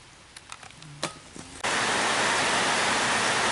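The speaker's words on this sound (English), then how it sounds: "you can probably hear it's raining outside real bad, and I've got a tin roof on the shop" Heavy rain suddenly roars down on a tin shop roof, a dense loud hiss that starts abruptly and continues steadily, after a few faint knocks and clicks inside the shop.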